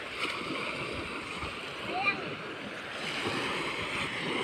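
Sea waves at a tropical beach make a soft, steady wash of surf, fairly faint and distant, with a small splash near the middle and faint voices in the background.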